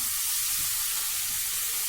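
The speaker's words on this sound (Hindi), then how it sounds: "और इसको तकरीबन 5 से 6 मिनट तक इस थोड़े से ऑयल के अंदर फ्राई करेंगे।" Minced meat (keema) fries in a little oil in a pan over a medium flame, giving a steady, close, broadband sizzle that holds evenly throughout with no talking.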